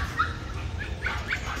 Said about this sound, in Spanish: Aquí hay muchas perras.